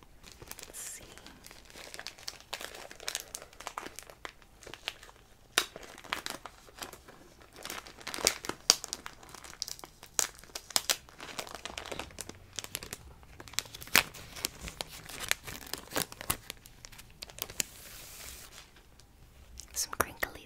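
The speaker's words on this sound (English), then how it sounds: "Some crinkly sounds there." A plastic comic book cover crinkles and crackles up close as the comic is slid out, in irregular bursts of crumpling with soft whispered speech in between.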